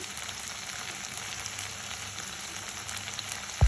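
Okra frying in a pan with salt added, giving a steady, close, even sizzle with light crackling throughout and no voices.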